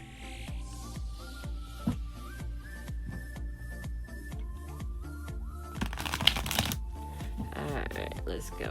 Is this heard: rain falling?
no